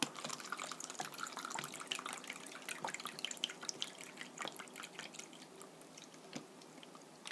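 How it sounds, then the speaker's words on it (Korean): Soy sauce pours steadily into a pot, a soft continuous trickle with scattered drips, close and fairly quiet, with no talking. "소이소스 진간장 고기가 3컵이니까 간장은 2배예요. 6컵 부어주세요."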